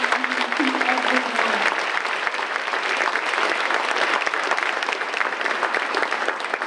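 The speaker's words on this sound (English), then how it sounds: "applause" Sustained applause from an audience at an awards program honoring influential African Americans in Mississippi, a dense steady wash of clapping throughout with a brief low tone near the start.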